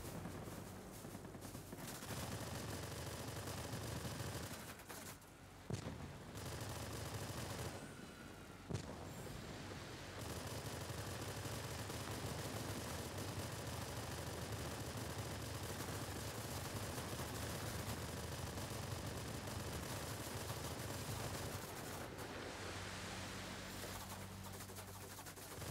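Machine gun fire from a warplane in the video game Warplanes rattles in a dense, continuous burst that lasts most of the stretch, with brief gaps and a few sharper impacts.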